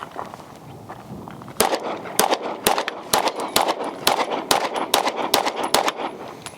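Rapid string of pistol shots from a Tisas B9R DS 2011, roughly fifteen sharp cracks in quick succession, loud and close, following a quieter lead-in with no talking.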